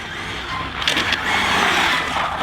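A ZD Racing EX-07 radio-controlled drift car whines and spins close by, its motor rising and falling in a brief burst with a short skid.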